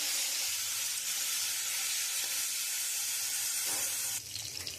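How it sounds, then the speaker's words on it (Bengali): Prawns sizzle loudly in hot oil, a constant hissing crackle that dips slightly near the end. "তেলটা গরম হয়ে গেছে, এবার চিংড়ি মাছগুলো দিয়ে দেবো।"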